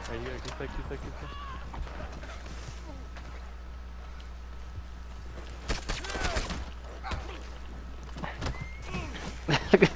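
Horse in a video game galloping with hoofbeats and a brief neigh, mid-level amid game noise and bursts of sound, with people talking over it.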